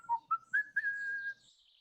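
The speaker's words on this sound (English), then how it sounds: "you guys begin to hear like a whistling sound echoing through the forest" A loud, deep whistle echoing through a forest, heard alone as a few short rising chirps that run into one long sustained tone before fading.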